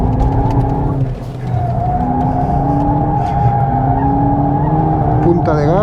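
VW Polo GTI 2022 on track with overheated tires, squealing in long rising tonal sweeps while sliding, set against a loud, steady engine drone; a voice talks over it.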